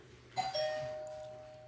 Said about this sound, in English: I think that's one of my darling children at the door, ringing the doorbell